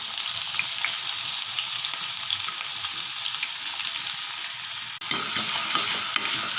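Ginger frying with mustard and fenugreek seeds in coconut oil, a loud, dense, continuous sizzle and crackle close by, with a brief stir midway and no talking.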